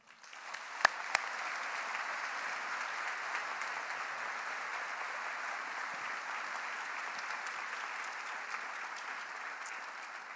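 An audience applauding at a formal university event welcoming a chancellor, sustained dense clapping from a large crowd that starts up quickly and holds steady, heard at a slight distance.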